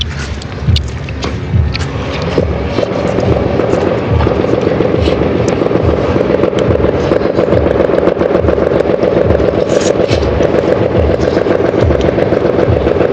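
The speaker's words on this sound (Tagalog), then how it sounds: "Daming paputok." Many firecrackers go off in rapid, irregular bursts of sharp cracks over a sustained loud roar, with no talk.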